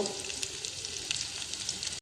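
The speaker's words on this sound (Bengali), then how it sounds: "বন্ধুরা, আলুগুলো আমার লাল করে ভাজা হয়ে গেছে, এখন আমি তুলে নেব।" Potatoes sprinkled with salt and a little turmeric fry to a deep golden brown in hot oil, giving a steady, close, even sizzle with no pauses throughout.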